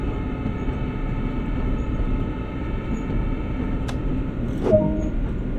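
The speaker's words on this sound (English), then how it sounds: "To bring the locomotive to a gentle stop, move the automatic brake into the minimum application position." A diesel locomotive in Train Sim World rolls with a loud, steady engine drone and rail rumble, a faint steady whine over it, a brief squeal near the end, and no voices.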